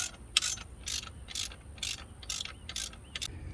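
A ratchet turns a small bolt on the heat shield of a 6.7 Cummins diesel engine, clicking in about seven quick, even bursts close up.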